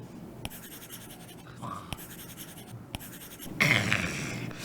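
Soft scratchy stylus strokes on a textured screen film, a run of short rasping scribbles with brief taps, close and quiet, no voices.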